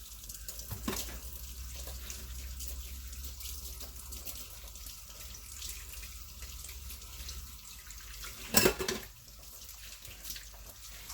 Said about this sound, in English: Let's rinse them off.